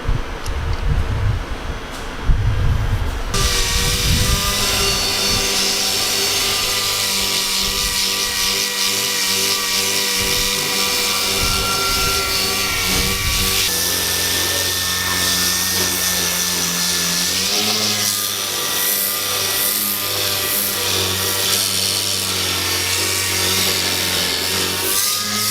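A power sander whines steadily at close range, a continuous loud buzzing drone that shifts pitch slightly as it works.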